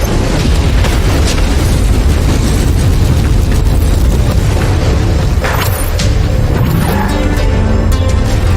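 A mech explodes in a video game, with a dense, continuous roar of booms and crashing debris filling the whole stretch, loud and close, followed by smaller bursts and pops toward the end.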